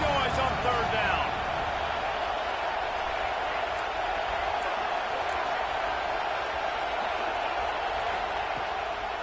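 A football stadium crowd roaring on third down, a dense, loud and sustained wall of noise from many voices with a brief sharper burst near the start, holding steady throughout.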